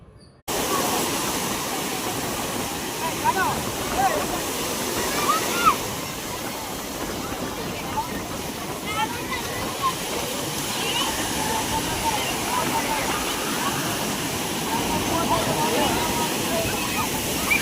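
Sea waves crash on the beach at Vizag, a continuous loud roar of surf with rolling swells and brief louder surges, alone without talk.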